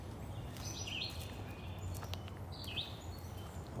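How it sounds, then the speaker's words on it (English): Outdoors, birds sing in two short, faint chirping phrases spaced a couple of seconds apart over a steady background hiss. "I'll let you guys listen to the birds now, they're singing away."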